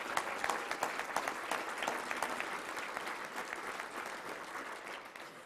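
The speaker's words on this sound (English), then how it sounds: "Let's give them a big round of applause for being here today." Audience at a Little Rock Touchdown Club luncheon gives a big round of applause, a dense, steady wash of many hands clapping that holds for several seconds and eases slightly toward the end.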